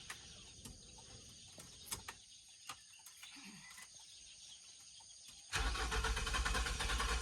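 An old car's engine is cranked in cold weather, with sparse clicks and knocks before the starter and engine suddenly roar into a loud, close, steady drone for the last couple of seconds.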